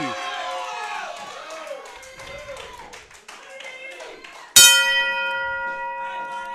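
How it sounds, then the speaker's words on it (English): A ringside bell rings once, loud and sharp, at the start of a professional wrestling match, its metallic tone ringing on afterward, following crowd noise and a commentator talking. "the opening bell has sounded"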